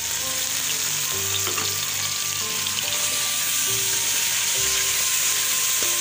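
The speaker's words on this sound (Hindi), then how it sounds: "लहसुन अदरक पेस्ट शामिल कर रही हूँ।" Garlic ginger paste sizzling and frying steadily in a hot pan, a dense continuous crackle with occasional stirring clinks and scrapes, no talking.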